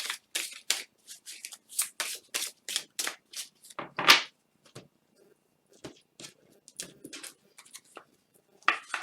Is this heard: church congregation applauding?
no